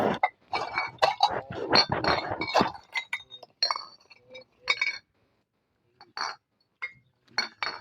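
Glass bottles clink repeatedly while being counted at a scrap buying stop, with rapid bright knocks early on, then sparser clinks separated by pauses.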